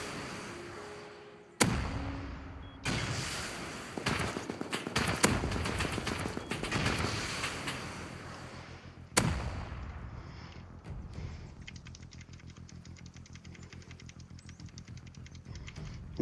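A homing missile fired in the video game Rust, with sharp launch cracks and booming blasts, then a rattling, crackling tail of explosive noise that fades into a buzzing hum.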